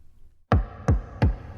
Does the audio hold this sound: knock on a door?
yes